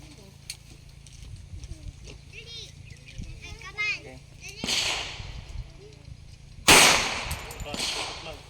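Pistol shots ring out at an outdoor firing range, two sharp loud cracks a couple of seconds apart after range commands, with people talking and ambient outdoor noise in between.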